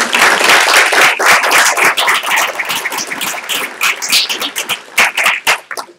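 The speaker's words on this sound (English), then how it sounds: "Let's give him an applause." Loud, close audience applause in a meeting hall during a proclamation ceremony, dense clapping that gradually breaks up into scattered individual claps.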